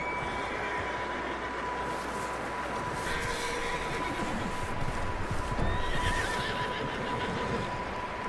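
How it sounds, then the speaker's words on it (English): Horses neigh and whinny in the Red Dead Redemption video game at an outlaw gang's ranch, with hoofbeats and steady ambient game noise throughout. "Oh, those are the O'Driscoll's horses."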